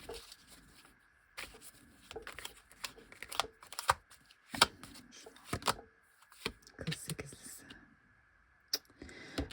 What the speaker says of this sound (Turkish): Bir kart daha alayım. Karıştırayım biraz.